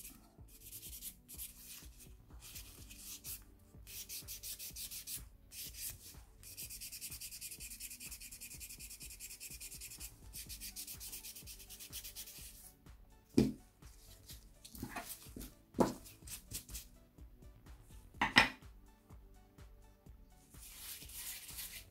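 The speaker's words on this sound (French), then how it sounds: "si on veut polir un petit peu plus, on prend un petit bloc comme ça, pour que ça fasse encore plus lisse" A small polishing block buffs fiberglass gel on a nail smooth, a soft, steady rubbing scrape that runs close and quiet throughout, broken by a few brief sharper knocks near the end.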